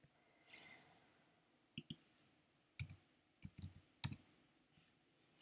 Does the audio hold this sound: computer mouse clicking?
yes